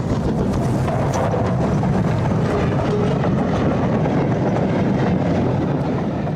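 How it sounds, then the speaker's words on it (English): Steam train hauled by North British Class D34 Glen locomotives pulling into Crianlarich station on the West Highland line, a steady loud rumble of wheels and carriages with faint rhythmic clatter throughout. "Here the train pulls into Crianlarich"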